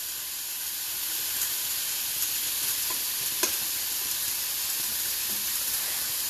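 Chicken and squash grill and sizzle in a pan with a steady broad hiss and a few faint clicks, fairly quiet and continuous, no voices.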